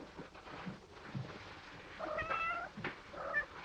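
Cats in a scene from a 1947 film give a few plaintive meows, one drawn-out cry in the middle and a shorter one near the end, fairly close over a low murmur.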